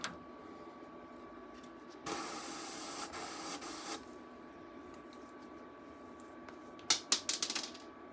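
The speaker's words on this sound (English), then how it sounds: "Got one more airbrush to clean out here," An airbrush being cleaned out, hissing spray in a two-second burst, then a shorter hiss, followed by a rapid clatter of small sharp clicks near the end, close and fairly quiet.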